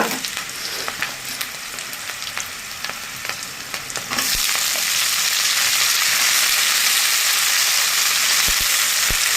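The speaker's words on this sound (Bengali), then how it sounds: "শুটকিগুলো একটু পেঁয়াজ রসুন তেলের মধ্যে ভেজে নেব" Dried fish frying with onion and garlic in hot oil, stirring scrapes over a sizzle that suddenly swells into a loud, dense, continuous hiss once the fish goes in.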